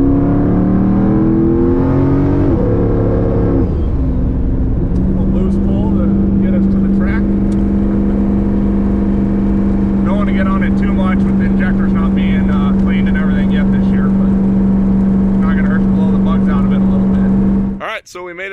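A race-prepped car on a cruise, its engine droning steadily and loudly from inside as it accelerates through gears and then holds a constant hum, with a voice talking over it.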